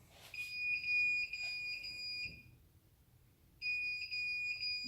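Shrill electronic warning beeps from a Xiaomi M365 electric scooter showing error 40: a sustained high tone that cuts off after about two seconds, then resumes after a short silence.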